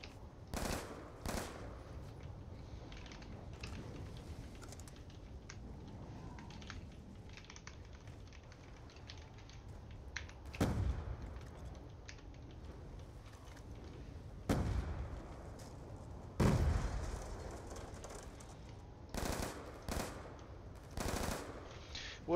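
Gunfire from a shooter in the Call of Duty Nuketown co-op zombies mode: scattered loud bursts and single shots spread across a low background hum, with quiet stretches between volleys and a denser cluster of shots toward the end.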